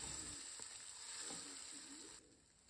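Egg with chili powder, pepper and tomato sauce frying in a pan with macaroni, a steady close sizzle with faint stirring scrapes, continuous and moderately quiet with no talk.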